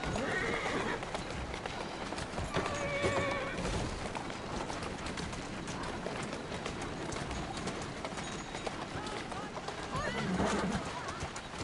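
Steady clip-clop of horse hooves pulling a carriage cab in the video game Assassin's Creed Syndicate, with the occasional whinny and pigeons cooing in the background.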